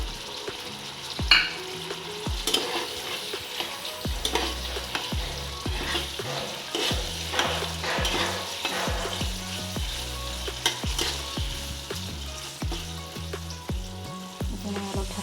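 Paneer cubes sizzle in a hot pan of shahi paneer gravy as a spoon stirs them, giving steady frying crackle broken by repeated scraping strokes and clinks at close range.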